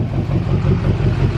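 A work truck engine idles roughly with an uneven, lopey rhythm, a loud, close low rumble that pulses irregularly without any voices.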